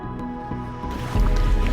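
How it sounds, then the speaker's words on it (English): Water sloshes and splashes briefly as a kayak slides in from a pond shore on Martha's Vineyard, with the liquid churn growing louder toward the end. "launched our kayaks at the base of Little Bridge"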